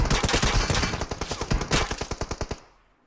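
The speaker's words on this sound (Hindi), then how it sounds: "और ये बंदा गाइस कंटिन्यूस मेरे पर फायर लेता रहता है" Enemy automatic gunfire in a solo battle royale match: rapid, loud, close bursts of shots crackle in a steady stream, then break into evenly spaced single shots before cutting off into near silence.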